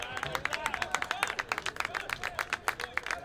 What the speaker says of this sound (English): you can hear the fans applauding the efforts of FCS